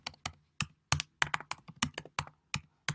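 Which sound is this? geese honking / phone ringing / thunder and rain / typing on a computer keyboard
typing on a computer keyboard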